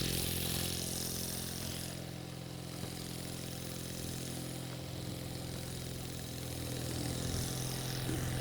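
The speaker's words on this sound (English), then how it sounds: "the compressor is only running at about 20 pounds into it" A Tesla mechanical oscillator driven by an air compressor at about 20 psi hums and clatters steadily like a small idling engine, continuous and even throughout with no talk.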